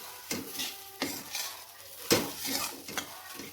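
Churma made from leftover flatbread, with lemon juice and sugar, being stirred in a pan: repeated scraping strokes of a spoon against the metal with a faint sizzle underneath, close and rhythmic.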